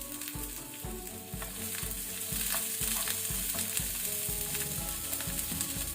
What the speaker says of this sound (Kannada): ಈರುಳ್ಳಿ ಬೆಳ್ಳುಳ್ಳಿ ಫ್ರೈ ಆಗಿದೆ